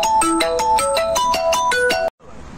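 A mobile phone ringtone plays a loud, bright repeating melody of quick notes, then cuts off abruptly into quiet background hiss.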